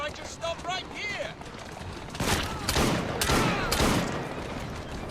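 Gunfire in the video game Assassin's Creed Syndicate, a burst of loud shots mixed with game noise and voices, with sharp cracks coming in quick succession toward the end.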